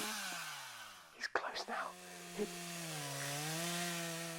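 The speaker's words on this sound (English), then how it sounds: "Is that a chainsaw here, my dear? Yes, it's a fucking chainsaw." A chainsaw runs nearby at a rough idle, its motor tone wavering up and down, with a brief burst of scraping noise partway through and a hushed whispered voice over it.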